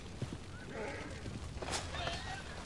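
A horse in Red Dead, with hoof clip-clops and a faint whinny, heard fairly quietly over a busy game soundscape.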